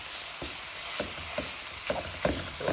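Lamb mince sizzles steadily in a pan for chili, with a spoon scraping through it in about five regular stirring strokes, heard close and alone.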